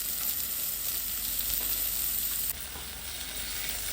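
Onion with ginger garlic paste sautéing in a pot for one-pot chicken rice, a loud steady sizzle and hiss close up with no voices; the frying dips slightly in level partway through.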